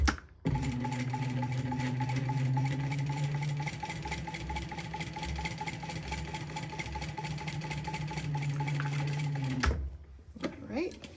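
A sewing machine stitches across the bottom of a card slot, back stitching in a steady close mechanical whirr that runs nearly continuously for about nine seconds before stopping, with faint voice fragments near the end.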